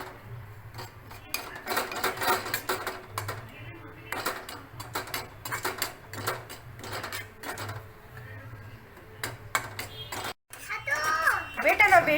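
A spoon scrapes and clinks against a pan in a home kitchen as ingredients are stirred for a cough and cold remedy, giving irregular metallic taps under steady talk between an adult and a child.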